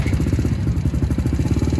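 A moped engine running steadily after a kick start, a close, rough, rapidly pulsing putter that holds an even idle throughout, with no talking over it.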